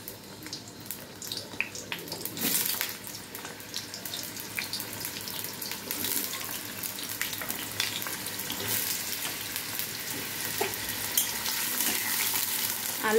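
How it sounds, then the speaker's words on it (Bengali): Potatoes fry in hot oil in a wok, making a continuous, fairly quiet sizzle with occasional scraping and stirring, and no voices. "এবার আমি আগে আলুগুলো ভেজে নেব।"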